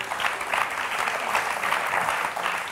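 An audience applauds steadily, a dense, loud wash of clapping that holds evenly for a few seconds without pause.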